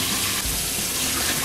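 Water pouring steadily into a pot holding about three cups of rice to rinse off the starch, a constant close rushing gush with no talk.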